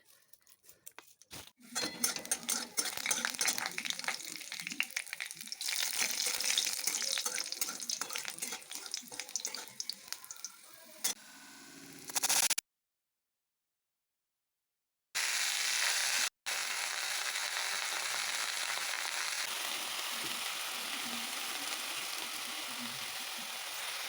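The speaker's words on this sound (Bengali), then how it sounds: "এই দেখো শাকটা কত সুন্দর ভাজা হয়ে যাচ্ছে" Leafy saag frying in a pan with unremoved water, a hissing sizzle with watery patter that breaks off into silence midway, then returns as a steadier fry.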